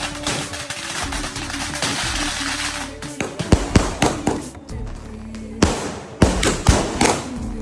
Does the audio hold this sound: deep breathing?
no